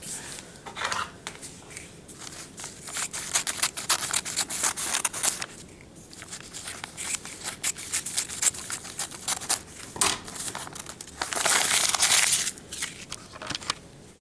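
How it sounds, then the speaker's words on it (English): Paper backing being peeled off an embroidery project, a long crackling, tearing rustle close up that grows brighter and louder near the end. "carefully peel the paper off your project"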